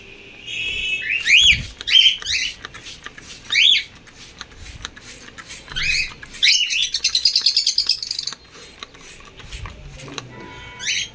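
Repeated bright chirps and whistled calls from a cockatiel being given a bath, close and loud, coming in bursts with short pauses, including a fast trilling run of notes near the end.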